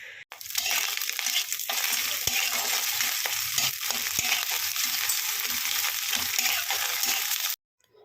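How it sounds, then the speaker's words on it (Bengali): Egg fries in a kadai with a loud, steady sizzle and occasional scraping stir sounds, starting abruptly and cutting off near the end, with no talking. "আমাদের প্রথমে ডিমকে ভাজতে হবে"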